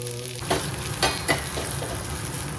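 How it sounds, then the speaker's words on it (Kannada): Crushed garlic and cumin seeds sizzle steadily in hot oil for a tempering, a continuous close frying hiss with a few brief louder crackles and stirring scrapes. "ಒಂಚೂರು ಎಣ್ಣೆ, ಜೀರಿಗೆ, ಆಮೇಲೆ ಏನು ಹಾಕ್ಬೇಕು ಇವಾಗ ಕುಟ್ಕೊಂಡಿರೋದು ಬೆಳ್ಳುಳ್ಳಿ"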